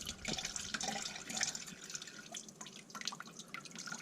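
Homemade red wine drips and trickles through doubled-over cheesecloth into a container, a quiet, close, steady patter of liquid with small splashy drops throughout.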